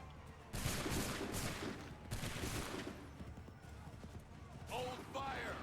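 Musket volleys from a line of soldiers crash out in the colonial-era game Assassin's Creed III, loud bursts of massed gunfire in two main waves, with horses whinnying and hooves clattering nearby and voices calling out.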